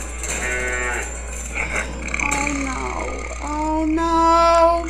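A cartoon cow fleeing a tiger lets out several drawn-out moos, loud and near, layered over a busy soundtrack of music and other animated sound effects.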